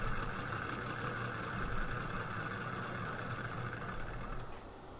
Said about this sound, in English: So we are running now, but like I said, this isn't, it should run much higher RPM.